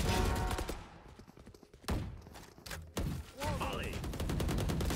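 Gunfire in a first-person shooter match, bursts of shots cracking in clusters across the clip with sharp impacts and bright clattering tails, loud and close, mixed with other game effects.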